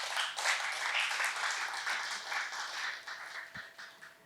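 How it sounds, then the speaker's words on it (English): Moderate audience applause at a startup pitching forum, a soft, steady patter of many hands that fades slightly toward the end. "Please give them a round of applause."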